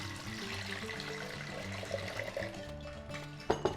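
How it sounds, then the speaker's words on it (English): Water runs steadily into a pressure cooker holding tur dal with turmeric and salt, a soft continuous pouring and trickling sound, with a couple of light knocks near the end and no talking. "add in some water"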